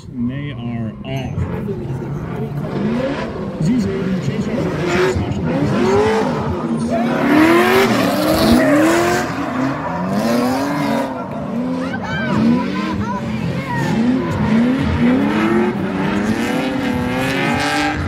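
Drift cars at a drift competition, engines roaring and revving steadily with rising and falling pitch sweeps and tire squeal through the whole stretch, loud and continuous, with a commentator talking over it.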